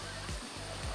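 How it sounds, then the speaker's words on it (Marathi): A roadside waterfall rushes in a brief, continuous, loud broadband roar with no voices. "धबधबा"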